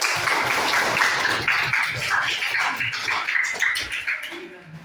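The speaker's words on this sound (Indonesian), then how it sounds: "Ya, kasih tepukan." Classroom students clap together for a group that has just presented, a dense, steady patter of many hands that carries on for several seconds before thinning and fading out at the end.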